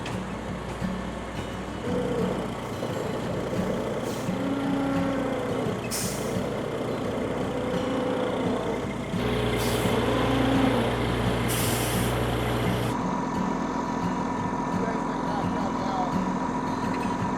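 A truck hauling a loaded tower crane rumbles steadily with a loud engine drone, punctuated by several sharp bursts of air-brake hiss, while faint talk sits under the noise.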